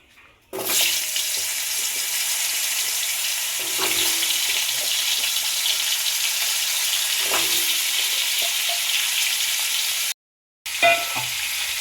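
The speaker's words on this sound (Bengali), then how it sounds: "এবার এই তেলের মধ্যে আমি দিয়ে দেবো আলু।" Halved, peeled small potatoes frying in hot oil for a vegetarian dish: a steady, loud broadband sizzle that starts abruptly after a brief quiet moment, runs continuously with a few light clinks, cuts out briefly near the end, then resumes.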